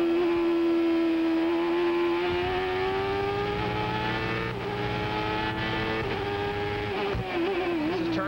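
A 1995 CART Indy race car engine screams at Laguna Seca from onboard, a loud sustained high-pitched drone. The pitch climbs and wavers slightly as the throttle is held and adjusted.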